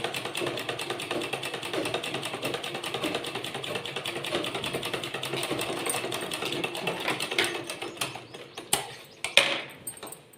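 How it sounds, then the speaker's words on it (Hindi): Sewing machine stitching along the edge of fabric, a rapid steady mechanical chatter that runs for several seconds before slowing into a few separate clacks and stopping. "तो इसको हम इस तरीके से सिलेंगे, बिल्कुल किनारी किनारी पे चलानी रही सिलाई।"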